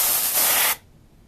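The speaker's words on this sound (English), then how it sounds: "I really shouldn't be trusted around compressed air." Compressed air can sprays into a Lenovo ThinkCentre M725s desktop in one loud, steady hissing burst lasting under a second, then cuts off abruptly.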